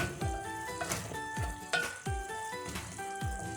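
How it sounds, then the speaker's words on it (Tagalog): Chicken cacciatore stirred in a pot: steady sizzling and frying with a spoon scraping through in regular strokes roughly every half second, close and moderately loud with no voices. "pwede na natin siyang haluin"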